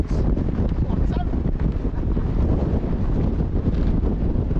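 Wind buffets the microphone continuously at a hilltop wild camp, a loud rough rumble that stays steady throughout and could mask any faint talk.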